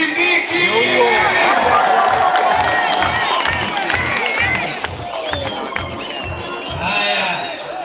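A large outdoor crowd at a Kenyan political rally in Kisii County cheers and claps for Professor Kindiki. The roar is loud and sustained, with shouts and whoops rising and falling and a voice amplified over it.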